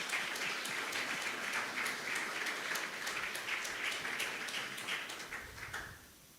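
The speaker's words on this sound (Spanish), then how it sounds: "Denle un aplauso a los." Church congregation applauding during a sermon: dense, sustained clapping from a crowd that holds steady and then tapers off near the end, with no talk over it.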